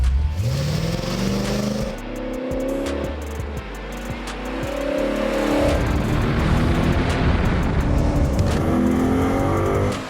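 A modified 1992 Camaro runs an autocross course on Continental Extreme Contact Sport tires, its engine revving up and down through repeated accelerations and shifts, loud and close, with rising pitch sweeps and hints of tire noise.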